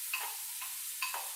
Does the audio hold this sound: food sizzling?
yes